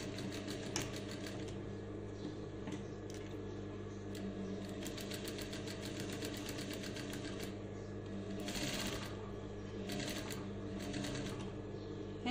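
Sewing machine stitching fabric along a zipper, quiet bursts of rapid needle clatter in short runs with pauses, over a steady low motor hum.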